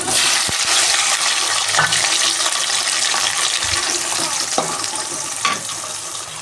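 Onions and tomatoes go into a pan for chicken biryani and fry with a loud, continuous sizzle. A few sharp clicks and knocks from the pan sit over the steady hiss, with no talking.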